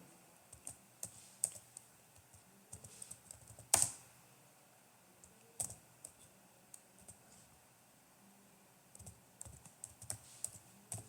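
Name being typed on a computer keyboard during a Terraform lecture, heard as quiet, irregular clusters of key clicks with one louder sharp clack partway through and brief pauses between bursts.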